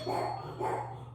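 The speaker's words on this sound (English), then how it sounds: "That's my dog barking." A dog gives two short barks indoors, moderately close, over a steady low electrical hum with no talking.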